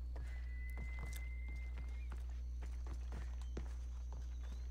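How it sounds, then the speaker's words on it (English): Horse hooves clip-clop at a steady walking pace in the video game Assassin's Creed Odyssey, even hoof falls over a constant low hum, with a faint whinny-like tone early on and no speech. "I thought that was a donkey for a minute. It's a horse."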